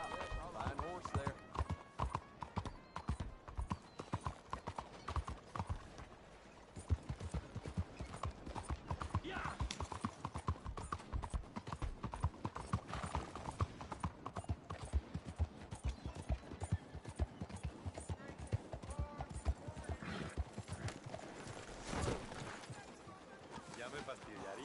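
Horse hooves clip-clop in a steady, quick rhythm in the Red Dead Redemption 2 video game, heard close and continuous under almost constant voices talking.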